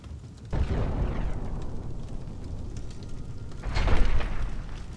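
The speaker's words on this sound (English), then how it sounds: "The bunker was destroyed in one powerful explosion." A deep, rumbling blast as a bunker is destroyed in a war zone erupts suddenly and keeps roaring, with a second heavier surge near the end, heard from a moderate distance.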